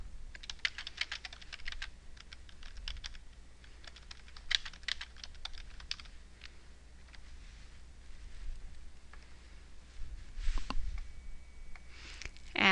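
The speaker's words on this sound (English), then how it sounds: "just start typing." Quiet typing on a computer keyboard in bursts of rapid key taps with short pauses between, close and soft, ending with a sharper clatter.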